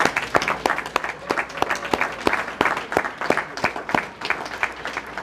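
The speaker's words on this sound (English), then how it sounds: "We want to acknowledge you with a round of applause." An audience claps for standing teachers at the Newark Watershed Science and Leadership Awards Ceremony, sharp individual hand claps in a loose, uneven rhythm, fairly close, with a brief spoken thanks.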